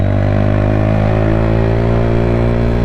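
A Lexmoto Tempest motorbike engine runs steadily and close while riding on wet roads, a constant low drone with a slight revving edge throughout, no voices.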